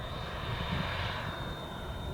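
An HSD Jets T-33 120mm EDF model jet flies past outdoors, its ducted fan giving a steady, moderately loud whine and rushing roar that holds evenly throughout with a thin high tone on top and no talk.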